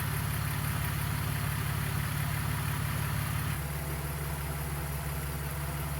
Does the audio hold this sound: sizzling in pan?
no